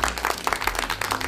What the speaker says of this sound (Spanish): Aplausos imaginarios